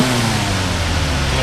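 Engine of a 1945 Dodge WC pickup truck revving, a steady low rumble with throaty mid-range roar held for a moment, close and fairly loud.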